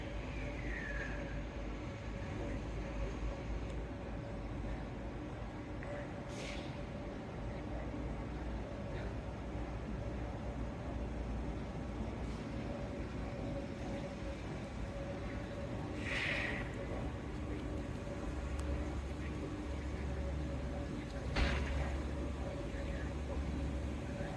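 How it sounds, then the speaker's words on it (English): A four-car shuttle train, set 3, arriving at Victoria Park, a steady low rumble that holds throughout with occasional distant squeals and sparse talk nearby. "here comes the train, set 3, and yeah, it's 4 car"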